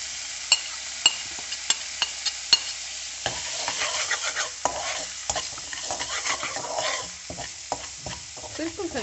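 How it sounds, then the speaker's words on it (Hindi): Cumin seeds fry in oil with salt, chili and turmeric for an eggplant dish, starting with a few sharp spoon taps on the pan, then stirring scrapes over a steady close sizzle. "जीरा अच्छे तरीके से भून गया है तो इसमें इसमें नमक मिर्च और हल्दी ऐड कर दूँगी।"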